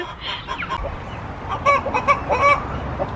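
Hens cluck and cackle in an excited, repeated egg-laying call, several birds nearby over a noisy farmyard background.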